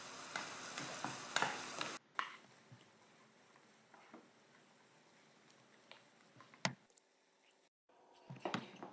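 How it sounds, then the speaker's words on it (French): Pistachios and cashews caramelizing in a pan as they are stirred, giving a soft, steady sizzle broken by faint, irregular scrapes and clicks, heard up close and quiet with no talking. "je vais mélanger jusqu'à la caramélisation des fruits secs"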